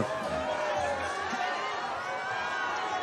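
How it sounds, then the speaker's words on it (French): Crowd of fans at the Cannes film festival shouting and screaming for Tom Cruise, a dense roar of many voices held steady, with a nearby voice talking over it. "Vous entendez les cris et de la foule"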